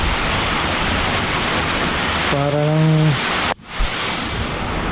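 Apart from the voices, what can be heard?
strong wind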